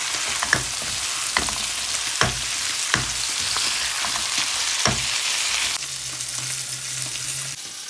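Carrot curry frying in a pan, a steady broadband sizzle with several sharp clacks of a utensil stirring against the pan, quieting slightly near the end while a low hum comes in.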